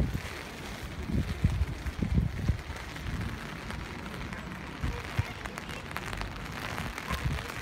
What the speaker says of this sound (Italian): questo rumore che sentite è la pioggia battente perché sta diluviando